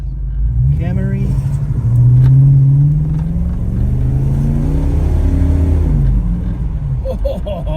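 A Holden VK Commodore built as a Brock tribute revs hard while accelerating through Melbourne traffic, its engine note climbing and swelling loudly before easing off, with a steady road rumble underneath.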